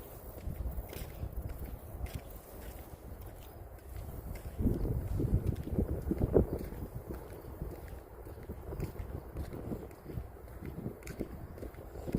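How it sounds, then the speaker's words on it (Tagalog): Outdoor wind buffets the microphone in low rumbling gusts, swelling strongest midway, with faint scattered rustling and no one speaking. "Sarap ng hangin."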